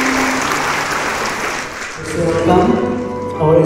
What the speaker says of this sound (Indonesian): Tepuk tangan buat Pastor